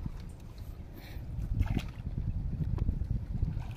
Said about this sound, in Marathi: रिवर्स चालवली होडी